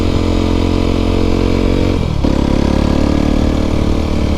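An Aprilia SX125 125cc motorcycle engine runs steady and loud at close range, with a brief dip and shift in pitch midway before settling back into an even drone.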